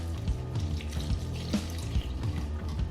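Lukewarm water pours steadily into a bowl of bread dough mix of flour and starter, making a continuous close trickling and splashing sound with small bubbly pulses.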